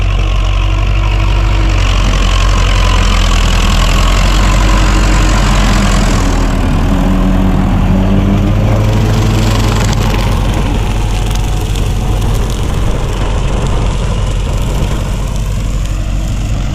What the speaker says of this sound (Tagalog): Grass cutter na traktora.